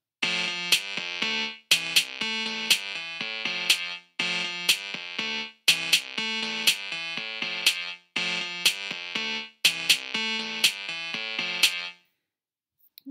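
Bright synthesized melody programmed in Chrome Song Maker, with repeating buzzy electronic notes in steady rhythmic phrases that play loudly for about twelve seconds before stopping, with no talking.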